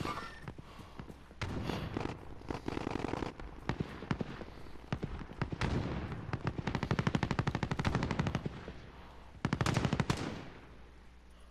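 Rapid automatic gunfire bursts and single shots from the Call of Duty: Warzone battle royale game, loud clattering volleys with short gaps and a final burst, mixed with game effects and no voices.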